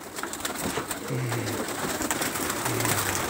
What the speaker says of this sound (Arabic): وادي الحمام اهو